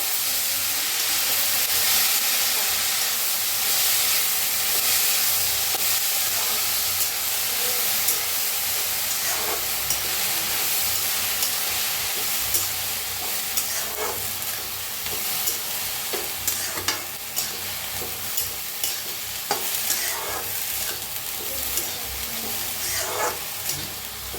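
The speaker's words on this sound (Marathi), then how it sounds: "आता ह्याच्यात घालूया मुग्याला आता छान भाजूया" Moong is dry-roasted in a pan with steady hissing and sizzling throughout, with occasional scraping stir strokes rising above the continuous texture.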